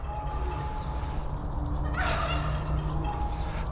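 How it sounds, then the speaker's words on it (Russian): Fowl in an enclosure on Yelagin Island in St. Petersburg give a burst of gobbling, rattling calls, moderately close over outdoor ambience. "вот вижу петуха, вон там курочки"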